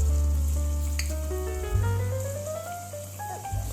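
Potato wedges sizzle loudly and steadily in hot cooking oil, a close, continuous frying hiss with a faint tonal whine running through it.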